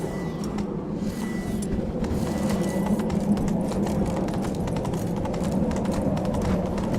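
Roach the horse gallops in Witcher 3, a continuous rapid hoof rhythm under a dense, loud game soundscape, close and steady with no talking.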